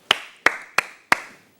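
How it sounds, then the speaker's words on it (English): Four sharp hand claps in an even, steady rhythm as part of a body percussion exercise, close and crisp with no voices. "Clapping."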